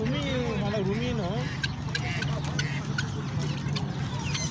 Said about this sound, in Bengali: কি মুরগি এগুলা?